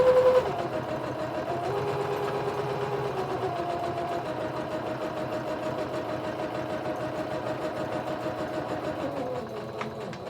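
A sewing machine stitches through a paper envelope with a steady, rapid mechanical chatter that runs evenly for about ten seconds before easing off at the very end, close and moderately quiet with no talk.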